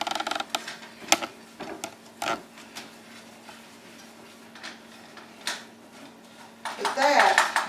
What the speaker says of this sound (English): You got to keep it stirred.